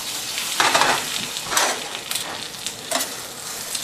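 Pita bread fries in butter in a frying pan for donairs, sizzling continuously with several louder bursts as the bread is moved around the pan.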